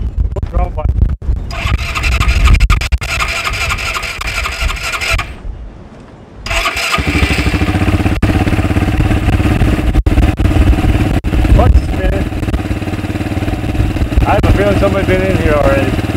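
An Eton Viper engine cranks, catches and runs with a rough mechanical clatter and buzzing idle, briefly cutting out before restarting and running steadily, close and loud.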